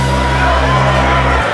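A game show audience from the Brunel vs Roehampton clash keeps up a dense, loud wash of crowd noise and cheering, steady for over a second before a low hum underneath drops out.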